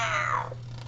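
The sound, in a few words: storyteller imitating a cat meowing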